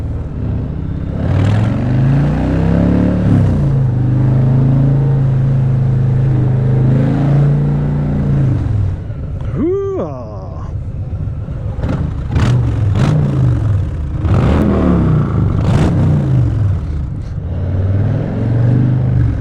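A 2020 Harley-Davidson Fat Boy motorcycle engine rumbling loudly while riding, with a pitch rising and falling through gear changes and a sharp high whine sweep midway.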